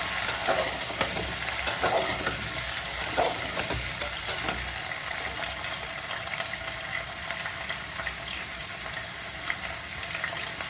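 Squash and potato frying in hot mustard oil in a pan, a steady close sizzle and crackle with occasional stirring scrapes throughout, no voices.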